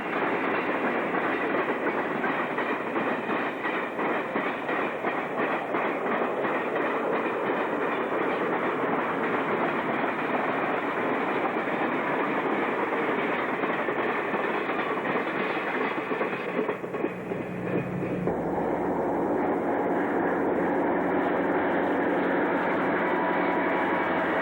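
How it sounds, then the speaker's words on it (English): Northbound Ontario Northland freight train 213 led by engine 1731 rolls past at Nellie Lake in winter, a loud, steady rumble with rhythmic wheel clatter throughout, near and continuous, easing in tone toward the end. "northbound train number 213 with engine 1731 passes us by on its way to Cochrane"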